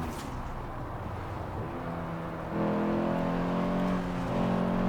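A modified Audi S1 in the racing game Forza Horizon 4 drives with a steady engine drone that steps up in pitch and loudness as it accelerates, continuous and close with no talk.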